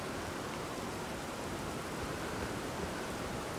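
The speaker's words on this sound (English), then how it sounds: "Oh good, it's raining." Rain falling in the video game Elden Ring, a soft, even hiss of steady rainfall that continues unchanged at low volume throughout with no voices over it.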